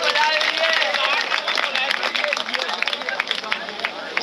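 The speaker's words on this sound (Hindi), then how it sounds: "इनके लिए ताली हो गए।" Applause from a crowd gathered at a Hindi-speaking association rally, a loud, dense wash of clapping with crowd noise mixed in, sustained throughout.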